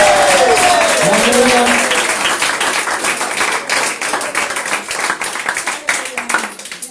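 Church congregation clapping and applauding in praise during a French-language service, steady dense applause that thins toward the end, with voices and cries mixed in.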